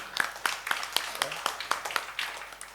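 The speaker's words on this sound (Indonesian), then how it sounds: "Kita beri tepuk tangan dulu ini" Applause at a cooperative members' annual meeting for the KSP Primadana savings and loan cooperative in Semarang, heard as a steady series of distinct, evenly spaced claps, moderately close and fairly quiet, with a voice briefly underneath.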